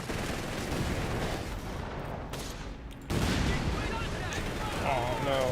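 Dense gunfire and explosions from a Company of Heroes 3 tournament match, with a machine gun position being flanked by a scout unit; a continuous loud battle roar of shots and blasts, with commentary voices underneath.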